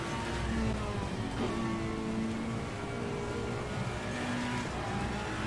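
A race car engine drones steadily while driving in the rain in a racing video game, a continuous moderate roar with shifting pitch and no talk over it.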